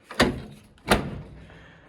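The door of a 1940 Buick under restoration is closed twice, two solid thunks a little under a second apart, close and fairly loud.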